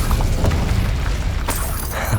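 Incendio fire spell blasts in Hogwarts Legacy, a dense roaring burst of low rumbling booms with a sharper crackling flare partway through, loud and continuous with no talk.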